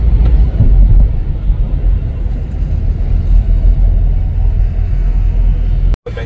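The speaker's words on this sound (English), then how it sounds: "When we are riding bike," A motorbike riding along a road in Jaipur, its engine a steady loud low rumble close to the microphone with a brief cut near the end; no talk.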